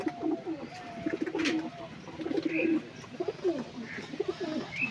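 Panja pigeons coo in soft, low, repeated rolling calls close by, with overlapping coos from several birds, faint chirps and some rustling, and a voice briefly under the calls.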